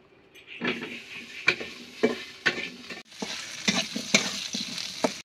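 Cut potatoes frying in oil in a village kitchen, bursts of crackling sizzle with repeated scraping and clinks of a utensil against the pan, close and loud, no voices.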